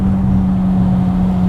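A BMW E30 M3 with a 2.3-litre four-cylinder engine drones steadily at full throttle from inside the cabin, a loud, even, unchanging hum with no talking.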